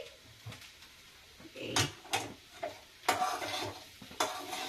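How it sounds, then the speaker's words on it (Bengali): Food is stirred constantly in a pan over a low gas flame, with close scraping strokes and sharp knocks of the spatula against the metal, set against a faint sizzle and spaced every second or so. "এই এবার অনবরত নাড়তে থাকবে, অনবরত নাড়তে থাকবে।"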